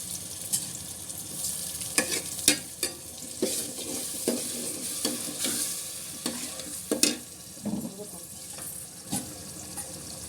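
Onion paste and green chilies frying in a pan for Andhra-style fish curry, a steady close sizzle broken by repeated spoon scrapes and stirring clatters against the pan.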